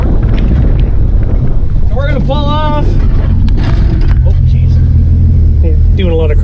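A Ford F350 truck with a T19 gearbox pulls off in first gear, its engine rumbling steadily and loudly with wind buffeting, while someone talks over it.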